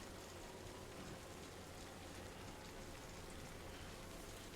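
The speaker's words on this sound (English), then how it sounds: "just listening to the rain" Steady rain falling in the video game Death Stranding 2, a dense, even hiss of raindrops on surfaces that stays constant and fairly soft throughout, with no voices.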